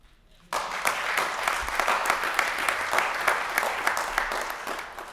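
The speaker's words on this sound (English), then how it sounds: "That right there, you should clap for." Audience applause at a Pittsburgh mayor's civic speech begins abruptly after a brief quiet moment and holds steady as dense, sustained clapping for several seconds, fairly close and loud, with no talk over it.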